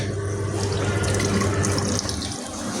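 Water runs steadily from a sensor tap, a continuous splashing stream that cuts off briefly near the end.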